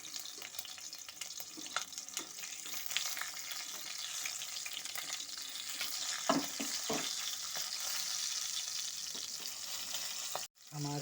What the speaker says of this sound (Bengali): জিরাটাকে আমি এখন ফোড়ন দিয়ে দেবো প্রথমে, সাথে একটা লঙ্কা